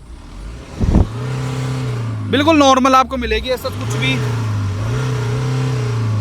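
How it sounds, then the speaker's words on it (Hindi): BMW 330Ld M Sport diesel engine revving through its exhaust, a low steady drone rising briefly under a voice, with engine noise present throughout the talking. "अगर आप इंटरेस्टेड हो इसकी एग्जॉस्ट सुनने के लिए भाई, तो एक बार रेस देना"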